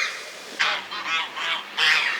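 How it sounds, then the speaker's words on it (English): Several loud, nasal goose honks in quick succession, close by, in bursts with short gaps between them. "There's also geese."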